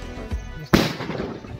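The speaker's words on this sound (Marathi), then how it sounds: "नुसते फटाके फोडतायत." At Rajgad fort, a single sharp firecracker bang rings out with a rumbling tail, preceded by a smaller dull thud and set against faint background murmur.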